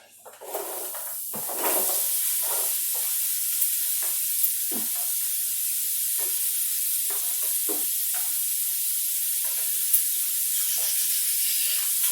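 Soup ingredients sauté in a pot, building quickly into a strong, continuous sizzle and hiss, with frequent short scrapes and taps of stirring running across the whole stretch and no voices.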